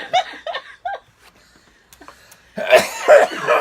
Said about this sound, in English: I'll cough too